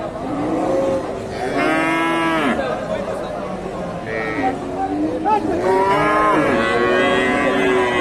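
Cattle moo at a traditional cattle market in Bangladesh, with several long, low calls rising and falling close by among a crowd's murmur.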